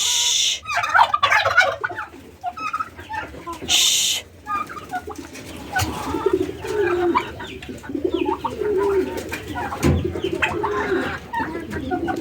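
Chickens and other poultry cluck, coo and gobble in repeated calls of varying loudness, some close and some farther off, with occasional talking mixed among the birds.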